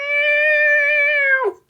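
A person imitates a cat, giving one long, loud, drawn-out meow that rises slightly and then drops off sharply at the end.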